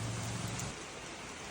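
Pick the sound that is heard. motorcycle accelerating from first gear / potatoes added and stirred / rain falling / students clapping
rain falling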